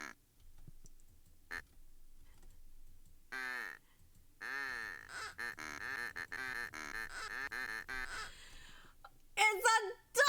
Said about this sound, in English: It's a duck noise!